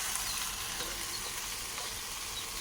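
Chopped okra, green chillies and onion frying in hot oil, a soft continuous sizzle that holds steady and faint throughout, with no voices.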